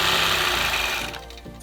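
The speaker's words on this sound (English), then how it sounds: "started stitching in the ditch on the outside diamond seams so I could stitch those down" A quilting machine stitches in the ditch along the diamond seams of a custom quilt, giving a loud, close, steady mechanical whir that eases off slightly near the end.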